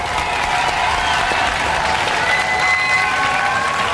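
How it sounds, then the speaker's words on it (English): A studio audience at a Robot Wars heat applauds a winning team, the Morg Posse. Dense, loud, even clapping from a large crowd fills the whole stretch without pause. "give a round of applause for the Morg Posse!"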